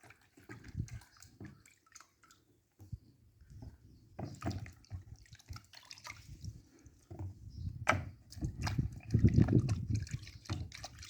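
Running water from a tap splashing as African squash are washed by hand, irregular trickles and drips with soft handling sounds, moderately close and fairly quiet.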